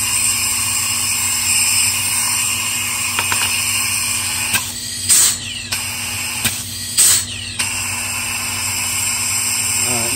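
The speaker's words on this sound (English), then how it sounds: "for now I'm going to cap it and cycle the tool." A Marson MP4V rivet tool being cycled, a steady high whine under constant background hum with two pairs of short mechanical pulls and releases, close and moderately loud.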